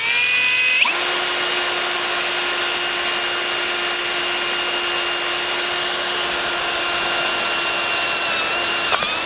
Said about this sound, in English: So we're going to drill the shear line, and basically it's about there.